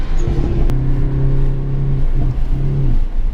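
A race car engine at a track day on Motorsports Park idles with a steady, loud low drone, rising in pitch as the driver drags the clutch, then dips and holds, a close continuous engine note throughout.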